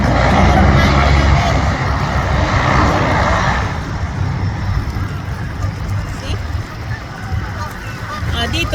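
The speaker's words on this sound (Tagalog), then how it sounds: "meron kaming eroplano na lumilipad sa tubig" A propeller seaplane drones overhead above water, loud and steady at first then fading, with people talking over the engine noise outdoors.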